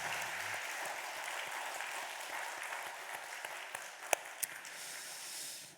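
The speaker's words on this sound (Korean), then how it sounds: "옆에 분 바라보고 사랑과 칭찬과 격려를 담는 박수 한번 크게 하면서 출발합니다" A church congregation at a Sunday worship service claps together in a steady, dense applause that fills the room, holding evenly for several seconds before tapering off.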